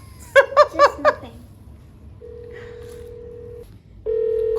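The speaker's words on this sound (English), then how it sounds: "Calling the room service in Hyatt Regency, as you can hear. They don't pick the phone." A hotel room-service line at the Hyatt Regency in Gurgaon is dialed from a room phone. A quick run of four loud tones is followed by a steady electronic ringback tone, a short pause, and the tone again, with no answer.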